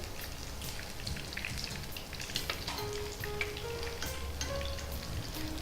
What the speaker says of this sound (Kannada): ಚೆನ್ನಾಗಿ ಫ್ರೈ ಆಗಿ ಉಬ್ಬಿಕೊಂಡು ಬರ್ತದೆ.